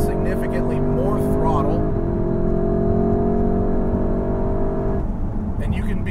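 A 2021 Porsche Cayenne GTS engine pulls hard uphill in a steady, loud climbing drone with rising harmonics, heard from inside the cabin, with a brief shift-like change near the start and talk over parts of it.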